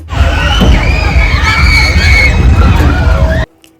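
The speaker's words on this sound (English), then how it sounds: "Just listen to the screams." Riders on a giant swing ride at a carnival in Cape Town scream together in a loud, sustained, many-voiced chorus that holds for over three seconds before cutting off sharply into near silence.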